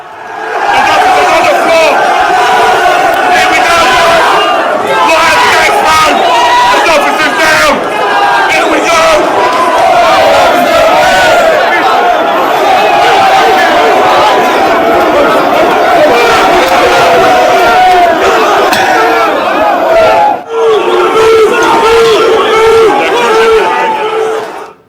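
Protest crowd clashing with police in London: dense, continuous roar of shouting and chanting voices at high level, sustained throughout with a brief dip near the end.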